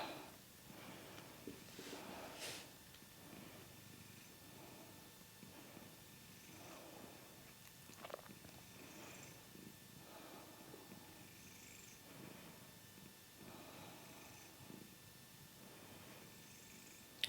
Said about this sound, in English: Not sure if you can hear my cat purring.